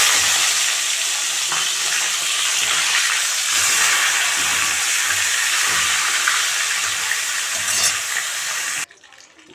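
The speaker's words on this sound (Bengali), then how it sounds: "এখন দিয়ে দিচ্ছি, ভেজে নিচ্ছি।" A rohu fish head rubbed with salt and turmeric fries in hot oil, giving a loud, dense, continuous close-up sizzle and crackle that cuts off abruptly near the end.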